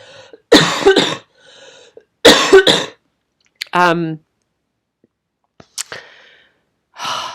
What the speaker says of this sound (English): So I'm just going to cough again now